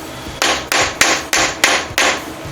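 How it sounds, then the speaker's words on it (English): A hammer taps a metal guitar fret into a fretboard during a custom guitar build, six sharp, evenly spaced strikes close up and loud, with no talking. "if I tap this on the fret and work my way out from the middle to the edge, it just focuses the force of the hammer where I want it to be"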